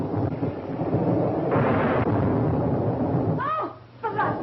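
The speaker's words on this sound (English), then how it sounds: "It's a storm." Thunderstorm rumble from a 1934 film soundtrack, a dense, loud roar of rain and wind filling the scene, swelling midway, with brief voices breaking through near the end.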